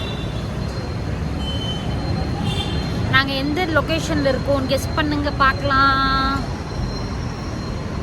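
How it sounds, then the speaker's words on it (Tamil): Metro train at Ulsoor metro station, heard as a steady low rumble of rail noise in the background while a person talks over it throughout. "அல்சூர் மெட்ரோ"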